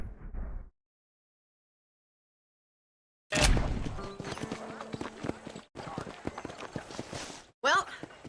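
Hooves of a horse pulling a ride in the western video game Red Dead Redemption, an irregular clatter of hoof strikes and rolling noise after a stretch of near silence, with voices talking over it.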